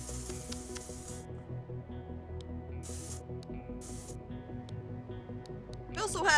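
Spray paint in the painting game SuchArt hisses out in several short bursts, one long spray at the start and briefer puffs later, over a steady tonal background.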